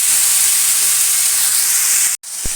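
Pumpkin curry sizzles and hisses loudly in a hot pan as it is stir-fried, a close, steady frying roar that briefly cuts out near the end before a soft knock.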